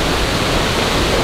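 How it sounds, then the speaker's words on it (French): A waterfall near Lac de Tseuzier, heard up close, gives a loud, constant broadband roar of falling and splashing water with no pauses or voices. "On a trouvé un chemin qui nous permet d'arriver vraiment au plus près de la cascade."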